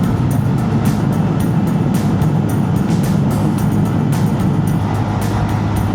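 A Honda Monkey motorcycle engine drones steadily while riding uphill below full throttle, a continuous low rumble with wind buffeting throughout, loud and close with no talking.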